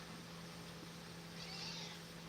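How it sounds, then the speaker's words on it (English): A single drawn-out cat meow, fairly soft and high, heard alone against a steady low hum. "She's got a whole bunch of different meows and other noises she does."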